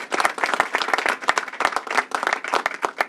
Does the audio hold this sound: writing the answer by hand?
no